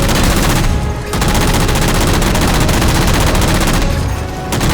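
Dense, continuous gunfire from shooting at jammers in Halo 4, loud and sustained across the whole stretch with brief dips, no talking.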